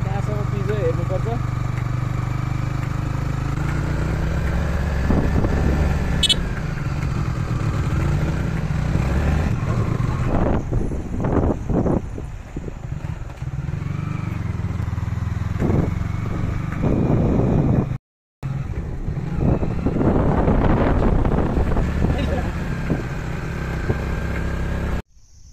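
A motorcycle carries a father and son up a paved mountain road, its engine droning steadily with shifts in pitch and bursts of wind noise, while the riders talk over it throughout.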